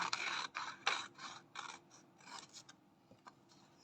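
Scissors snip out a watercolour paper name sticker in a quick run of close, crisp cuts, about seven or eight strokes that fade into softer rustling.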